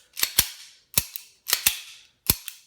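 A Smith & Wesson Bodyguard 380 ACP pistol is function tested with its slide racked and trigger pulled, producing sharp, close metallic clicks in quick pairs, repeated four times with short gaps and no voices.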